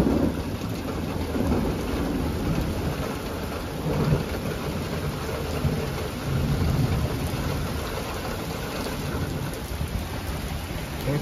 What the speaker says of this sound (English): The rain is starting to fall heavily now.